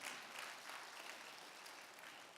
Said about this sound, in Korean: 좀 박수 좀 쳐봐요.